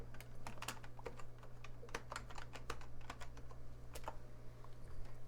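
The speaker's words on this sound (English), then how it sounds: "So first, I'm going to type in" Typing a name into a newspaper search on a computer keyboard: a quick, uneven run of close, faint key clicks over a low steady hum.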